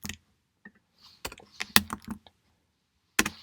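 Sparse clicks of typing on a computer keyboard, a few isolated taps followed by a quick cluster of keystrokes, then a pause and one last tap, close and fairly quiet.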